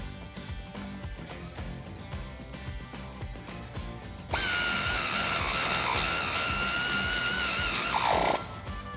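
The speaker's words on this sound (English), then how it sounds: "With our 8mm Allen socket, we can tighten this side down" A power tool with an 8mm Allen socket tightening a shock bolt on a Jeep Wrangler JL during a lift kit install, a loud, steady whirring run of about four seconds that follows softer clicking and handling noises and ends abruptly.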